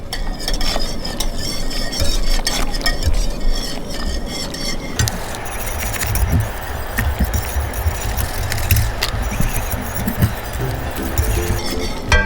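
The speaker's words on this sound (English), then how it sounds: "Make sure I get it stirred in there real good." A spoon stirs jalapeno spruce tip mint jelly in a metal pot, with steady close scraping and clinking against the sides and a soft bubbling sizzle underneath.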